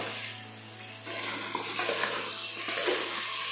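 Green chilies for South Indian sambar sizzle loudly in a hot pan, a constant bright frying hiss with occasional stirring scrapes close by.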